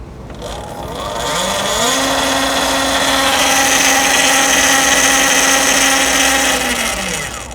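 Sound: electric motorbike motor whining under throttle

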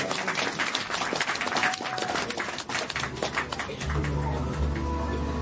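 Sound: applause

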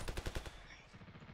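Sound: gunfire after an order to fire

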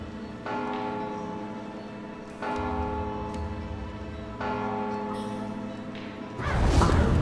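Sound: bell ringing in video game Mark of the Ninja

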